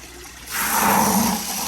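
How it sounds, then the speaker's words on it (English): Water from a hose or tap gushes on abruptly and rushes steadily while filling a goldfish pond in an aquaponics setup, loud and close with no voices. "So we're gonna turn on this water, okay?"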